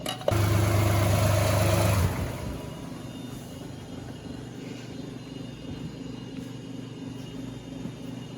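A 2014 Lexus RX350 with the 3.5L 2GR-FE V6 starts with a loud surge for about two seconds, then settles into a steady, low idle hum, heard up close with no talking.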